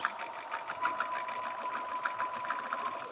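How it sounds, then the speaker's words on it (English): A sewing machine hums steadily while top stitching around a Japanese rice bag, a quiet, even mechanical whir with a regular stitching pulse throughout. "I'm just going to take it nice and steady and top stitch all the way around"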